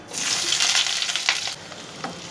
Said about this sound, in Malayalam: നന്നായിട്ടൊന്ന് വഴറ്റിയെടുക്കണം